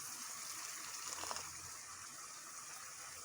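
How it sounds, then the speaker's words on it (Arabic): Water poured into a pot of softening onions on the stove, a steady hissing sizzle with a short gushing splash in the middle, heard close and fairly quiet. "باش نعاودو نزيدو شويه ماء"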